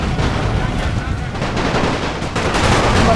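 Dense, relentless machine gun fire rattles through an alternate Great War battle in Napoleon Total War, loud and continuous cracks layered into a rolling roar of gunfire with battlefield noise underneath.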